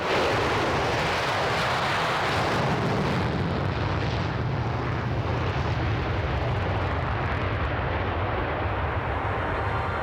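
A loud, continuous Concorde jet engine roar fills the whole stretch, a dense steady rumble with a slight shift in tone partway through.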